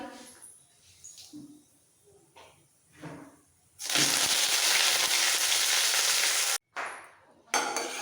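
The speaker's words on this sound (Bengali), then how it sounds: "এবার সব ফোড়ন একসাথে একটু ভেজে নেব" Quiet talk at first, then a loud, steady sizzle of tempering spices, chana dal, urad dal and curry leaves hitting hot oil for upma, crackling continuously with a brief gap near the end.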